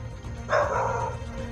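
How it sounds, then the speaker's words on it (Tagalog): A single dog bark or short yelping burst rises briefly over a steady low rumble of background noise. "May aso pa sa babaw."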